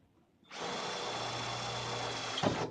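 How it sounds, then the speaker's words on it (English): A power drill whirs steadily for about two seconds while drilling a hole in a 1998 Eclipse GS for a spoiler, starting abruptly and stopping with a brief clatter, close and loud. "keep drilling, make the hole bigger"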